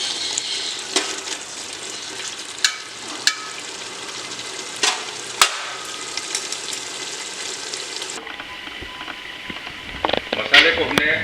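Masala frying with stock in a pan for a mutton chaap recipe, a steady close sizzle with occasional sharp stirring clinks and scrapes, joined by a change in sound near the end.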